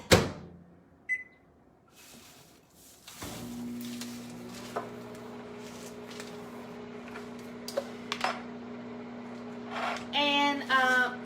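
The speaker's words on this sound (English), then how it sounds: "I'm gonna stick that in the microwave real quick and get it" A microwave oven heating mozzarella and cream cheese: a door thump and button beeps, then a steady low mechanical hum runs for several seconds before closing beeps and clicks.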